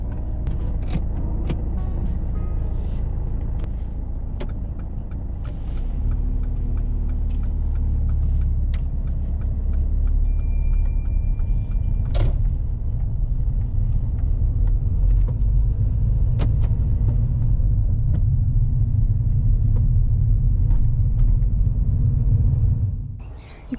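A learner's car moves off during a driving lesson, low engine rumble swelling after a few seconds and carrying on steadily as it travels, close-up cabin sound with scattered clicks, fading at the end, no talking.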